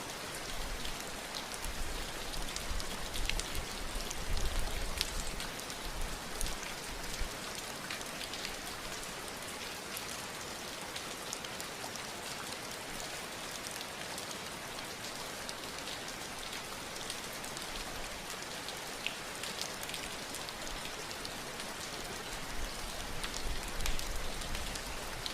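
Rain falls steadily and evenly throughout, a dense, hissing patter of drops on surfaces with no pauses and no voices.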